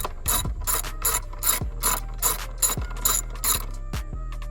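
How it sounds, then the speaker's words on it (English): A socket ratchet loosens engine cover bolts on a 2009 Kia Rio, clicking in quick, steady bursts of sharp pawl ticks, close and clear, with no speech. "I am using a number 10 ratchet, socket and ratchet"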